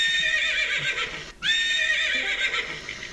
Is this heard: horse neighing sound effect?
yes